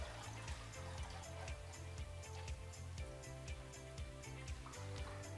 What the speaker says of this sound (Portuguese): Eu vou encher o filtro.